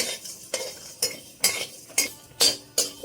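A utensil scrapes against a pan in rhythmic strokes about twice a second, with a faint sizzle underneath as whole spices are stirred and lightly fried.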